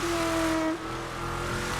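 An armoured, bulletproof military car driving in GTA 5, its engine droning steadily with a sustained tone and revving slightly, loud and continuous throughout the short moment without any talking.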